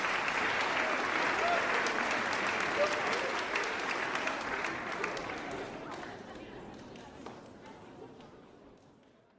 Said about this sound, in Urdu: آئیے خدا کی تمجید میں تالی بجائیں